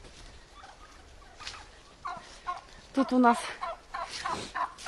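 Turkeys gobble nearby in several bursts of rapid, bubbling calls, with a brief bit of speech early on.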